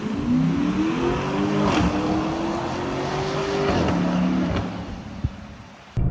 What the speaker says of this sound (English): Nice deep tone, twin turbo V8.